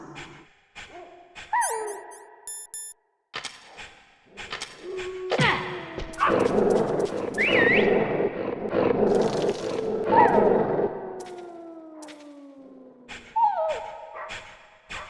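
Dogs in Metal Gear Solid growl and bark in a game scene, a burst of snarling and barking swelling to a loud, dense tangle mid-clip with synthetic whoops and tones around it, then thinning to scattered yelps and whines.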